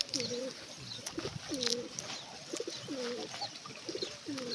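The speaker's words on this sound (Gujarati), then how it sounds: "આ બે છોકરા કબૂતર પકડવા આયા છે આપણી વાડીએ." Pigeons at a farm coo in repeated rolling phrases, several distinct calls spaced a second or so apart, with faint chirps and rustle in the background.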